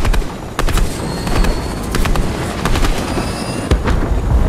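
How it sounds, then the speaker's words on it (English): Gunshots in the Fortnite battle royale game, a series of sharp cracks scattered over a dense, loud rumble of wind or machinery, one shot standing out near the end. "No, I'm gonna shoot him just in case."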